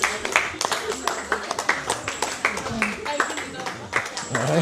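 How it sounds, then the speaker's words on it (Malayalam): A crowd at a home wedding claps in encouragement, with dense, uneven hand claps close by and people talking over them throughout. "ഒന്ന് കൈയടിച്ച് പ്രോത്സാഹിപ്പിക്കുക എല്ലാവരും"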